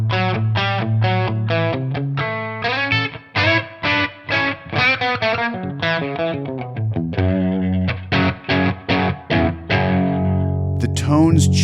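Electric guitar plays a sequence of chords and notes through changing amp modeler presets on a Tonex pedal, some distorted, with short gaps between strummed phrases and a brief squeal near the end.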